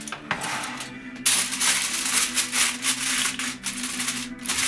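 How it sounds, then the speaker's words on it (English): Tin foil crinkles and rustles as it is pressed tightly around a pan, a quiet crackle that turns into a louder, busier scrunching for the rest of the moment, heard up close. "just get this nice and tight round the pan"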